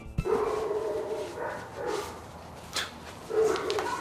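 Dogs bark in a few separate bursts, one sharp bark near the start followed by yelping, whining barks spread across a few seconds at moderate distance.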